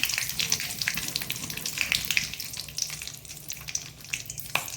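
Mustard seeds, curry leaves and asafoetida fry in hot oil, a close, dense sizzle with scattered crackles and pops, steady throughout with no talking.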